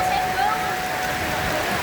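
Steady rain at an evening religious gathering, a dense continuous hiss with no gaps, loud and close, with a faint tonal hum beneath and no clear talking.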